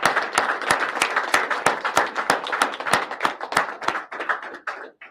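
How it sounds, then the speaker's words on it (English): Applause at the unveiling of Maine's new pine tree license plate, honoring the employee who designed it: a small audience claps in distinct, fairly steady strikes for about five seconds, tapering off and thinning out at the end. "can we have a round of applause for Mary?"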